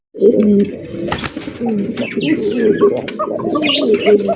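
Bombay pigeons, a breeding pair with round crests and pink beaks, cooing repeatedly close up in soft throaty rolling calls, with faint chirps and background clatter around them.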